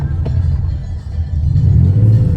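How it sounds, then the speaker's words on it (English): A 3.2 Carrera car engine with a fuel pump problem rumbles unevenly up close, its low drone wavering and surging slightly toward the end, with no talking. "You can hear the engine is not playing with me today."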